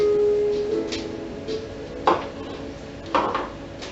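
Utensil scraping and knocking against a bowl as flour is stirred into pumpkin cheesecake batter, a few sharp clinks at intervals over a low background hum, no talking.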